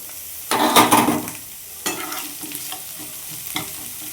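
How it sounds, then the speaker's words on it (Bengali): Diced onion stir-frying in a pan for corn chaat, sizzling under a few bursts of stirring and scraping, loudest early on and then settling into a softer frying hiss. "পেঁয়াজটা একটু ভাজা ভাজা হোক"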